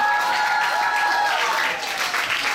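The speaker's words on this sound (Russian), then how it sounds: "Паша, сильные аплодисменты Паше." An audience at a creative contest breaks into loud, sustained applause that fills the hall, with a few thin tonal sounds sitting over the clapping.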